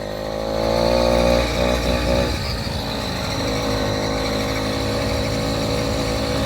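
A motorized bicycle's small engine drones steadily and loudly while riding along a road, with a slight rise in pitch early on and then an even, continuous hum.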